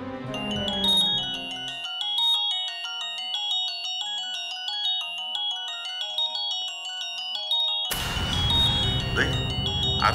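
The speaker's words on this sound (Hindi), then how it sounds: "फोन आ गया" A mobile phone rings with an incoming call: a bright, looping electronic ringtone melody plays close and steady for several seconds, first over background noise and then alone, before a louder burst of noise cuts in at the end.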